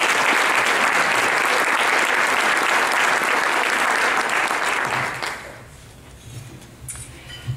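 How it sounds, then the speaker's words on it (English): An audience claps loudly and steadily for a speaker being introduced at a health care talk, the applause holding strong for about five seconds before fading into quiet room murmur and a few stray sounds. "Please join me in giving her a round of applause."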